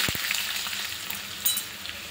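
Cumin, mustard seeds and green chilli-garlic-cumin paste sizzle in hot oil for a spinach-and-bathua dish, a loud, steady hiss with a couple of sharp pops at the start and a brief flare near the middle.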